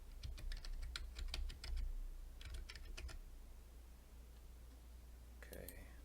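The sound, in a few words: typing a password on a computer keyboard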